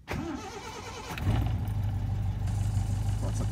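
A petrol car engine cranks briefly and catches, then settles into a steady, close idle that continues to the end.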